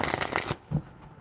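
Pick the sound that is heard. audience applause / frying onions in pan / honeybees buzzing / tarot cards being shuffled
tarot cards being shuffled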